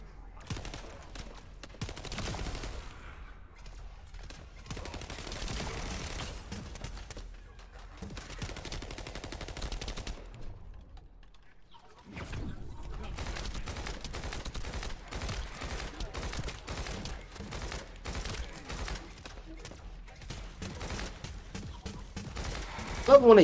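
Enemy gunfire in the shooter video game The First Descendant, dense bursts of rapid automatic fire in repeated volleys with a short lull midway and a loud blast at the end.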